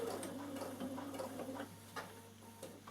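Bernina sewing machine stitching around fabric, a quiet steady mechanical whir with a rapid rhythmic ticking of the needle, slowing toward the end with a few separate clicks.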